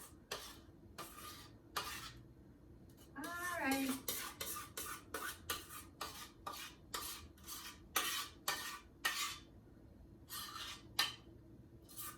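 A utensil scrapes applesauce cake batter from a mixing bowl in a home kitchen. Repeated short, rhythmic scraping strokes, some with a faint squeak, come close but quiet and continue steadily for several seconds.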